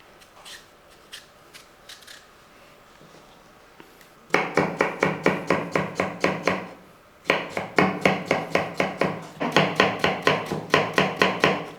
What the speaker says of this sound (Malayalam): ഇതേപോലെ പൊടിയായിട്ട് വേണം പച്ചടിക്ക് അരിഞ്ഞെടുക്കാനായിട്ട്.